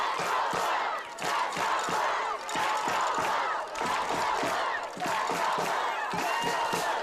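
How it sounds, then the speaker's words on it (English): A crowd at a Friday night high school football game roars and cheers loudly, with repeated surges and brief dips and a rhythmic chant-like pulse. A faint announcer's voice sits beneath the noise. "You can hear the crowd certainly into it."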